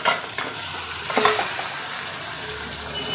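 Masala frying in a pan while being stirred during mutton biryani cooking, a steady close sizzle with scraping stir strokes that swell briefly near the middle, no talking.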